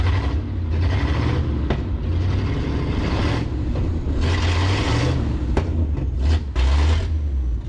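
A 1963 Loadstar truck, abandoned and cut in half, revs its engine in steady, loud, rumbling bursts that rise and fall over several seconds, heard close by with some clattering underneath and no talk.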